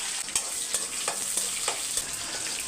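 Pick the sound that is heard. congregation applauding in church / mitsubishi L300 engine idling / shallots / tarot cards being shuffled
shallots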